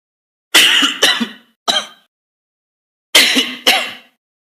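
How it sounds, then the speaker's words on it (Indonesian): A man clears his throat and coughs in five sharp, harsh bursts, three close together then a pause and two more, during a public address. "Batuk-batuk nih."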